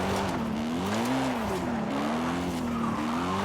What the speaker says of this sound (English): I'm lunging down the road, drifting, and not in the bushes